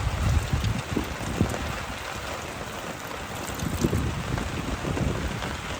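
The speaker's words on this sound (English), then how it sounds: "I set up it just in time for all the rain to hit, and this is actually hail." Heavy rain mixed with hail drumming on a tarp nearby at a canoe-trip campsite, a loud continuous rattle with occasional harder pelting bursts and gusts of wind.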